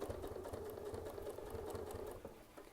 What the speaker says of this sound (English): So we'll just start sewing.